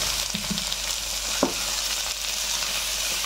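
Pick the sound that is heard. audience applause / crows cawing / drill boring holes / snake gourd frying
snake gourd frying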